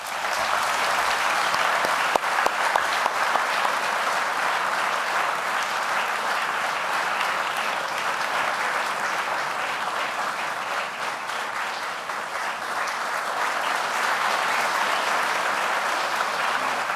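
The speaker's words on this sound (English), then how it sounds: "we can give them another round of applause" Sustained applause from an audience at an awards ceremony honoring a scholarship recipient, steady dense clapping that fills the room for about seventeen seconds with a faint murmur of voices.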